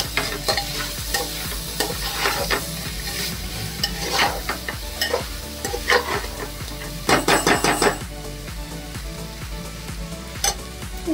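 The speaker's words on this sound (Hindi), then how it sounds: "सब्जी अच्छी तरीके से मैंने भून ली है" Kala chana sabji vegetables fry in a pan while a spoon stirs and scrapes through them, steady sizzle under repeated clinks and scrapes of metal on the pan, close and moderately loud, with no talking.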